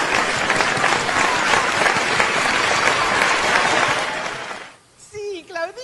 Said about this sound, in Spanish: darle los muy buenos días a Claudia Lombardi con este aplauso enorme porque es mamá también.